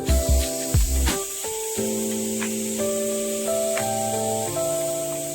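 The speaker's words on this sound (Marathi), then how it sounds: "आता वाट बघायची 3 शिट्ट्या होईपर्यंत." A pressure cooker cooking chicken lets out a loud, steady jet of hissing steam with a shifting whistling tone, preceded by a few sharp rattles and bursts at the start.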